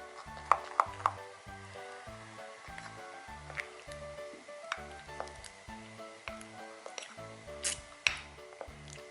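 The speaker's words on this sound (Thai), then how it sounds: "นี่ค่ะคนกาวกับแป้งนะ ค่อยๆคนค่ะ" Glue and powder stirred together in a cup to make slime, a soft repetitive squishing and scraping in a steady rhythm, close and fairly quiet, with a few light clicks.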